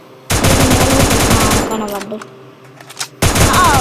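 Rapid automatic gunfire in a battle royale video game: a loud sustained burst, a short lull with scattered shots, then another burst, with a player's voice speaking briefly.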